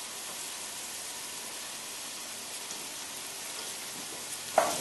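Onions frying in a pan while meatballs are made, a steady close sizzle that runs throughout, ending with a brief clink or tap.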